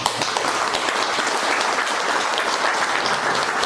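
A hall audience at a memorial jubilee event for a fallen soldier claps in a dense, sustained burst of applause that holds at an even loudness throughout.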